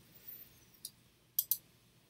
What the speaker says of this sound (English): So you want to go ahead and double click on Plex.